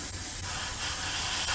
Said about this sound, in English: we're spraying at our typical 12 to 15 psi, and I'm just going to start building up color.